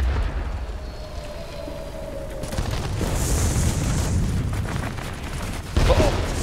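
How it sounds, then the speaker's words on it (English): Deep rumbling booms roll through a noisy World of Warplanes battle involving a Sturmovik aircraft, with a sustained low roar and a louder burst near the end. "I'm making lots of noise, though, and causing lots of explosions"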